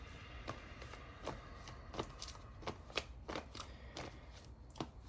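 Oracle cards are shuffled by hand in a run of quick, soft riffling bursts, close and quiet, with short pauses between them.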